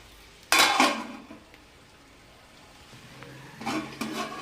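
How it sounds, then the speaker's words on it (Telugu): A metal lid is set onto a cooking pot of vegetable biryani, giving a sharp clatter followed a few seconds later by a second burst of metallic clinking. "ఇప్పుడు మూత పెట్టేసుకోండి"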